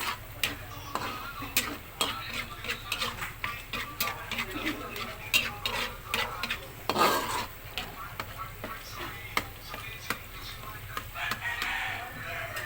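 Biko sticky rice cake being stirred in a pan as it turns golden brown, giving repeated scraping and sticky stirring sounds with light sizzle, under a steady low background hum and occasional roosters crowing nearby.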